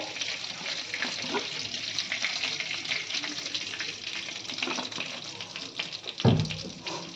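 Chicken rubbed with ginger, garlic, chilli powder and salt sizzles steadily in a pan for chow mein as oil goes in, a dense crackling hiss throughout with a brief louder burst near the end.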